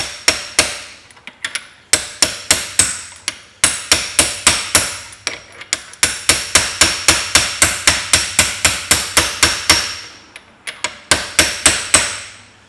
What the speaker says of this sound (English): the spider fits on the splines, and I'll tap that on